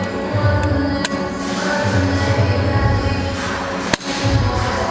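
Inversion boot latches snap shut, with a couple of sharp clicks and one louder crack standing out over a steady background hum.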